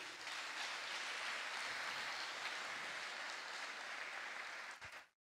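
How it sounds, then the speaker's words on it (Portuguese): A church congregation at an evangelical service breaks into sustained applause, a dense, even wash of clapping that holds for about five seconds and then cuts off abruptly. "Quem pode dar uma salva de palmas para Ele?"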